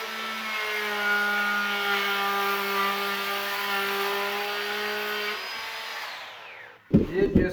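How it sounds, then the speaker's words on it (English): A Bosch 12V cordless brushless trim router whines steadily at high speed while cutting a length of wood, with sharp harmonic tones holding for about six seconds before winding down, followed by brief thumps and handling noise. "Super, super fast cutting with this router."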